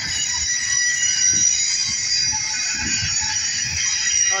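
A Southern Pacific locomotive and train rolling past in El Paso, Texas, a steady loud rumble of wheels and engine with a high metallic whine over it, continuous and close.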